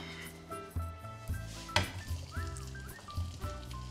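Apples drop into butter and sugar melting in a frying pan, giving a steady crackling sizzle with a few soft knocks of fruit and utensil against the pan.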